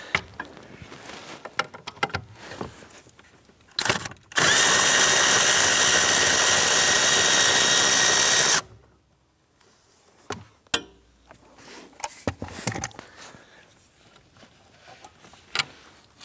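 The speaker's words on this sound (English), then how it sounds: "There's a 13 millimeter nut right here. Let's go ahead and loosen and remove that one." Loud, close whine of a power tool running steadily for about four seconds while a 13 mm nut is loosened and removed on a 2008-2013 Nissan Rogue, surrounded by quieter clinks and handling noises.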